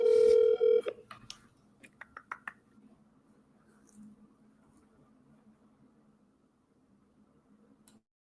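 A telephone call being dialed: a steady dial tone sounds for about a second, followed by a series of soft clicks and short tones, then a quiet stretch with a faint hum and one last click.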